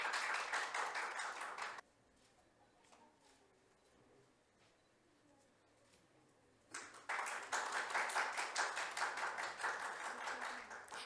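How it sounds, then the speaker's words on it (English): An audience at a pageant talent round applauds a guest in two bursts of clapping, the first stopping abruptly, then a quiet pause with faint background noise before a second, louder round starts up and carries on. "A big round of applause for him,"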